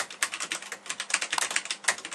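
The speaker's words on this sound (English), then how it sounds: "Typing on the keyboard" Brisk typing on a PLU ML 87 mechanical keyboard fitted with heavy Cherry MX Black switches, a rapid run of crisp, loud, close keystrokes with no voices.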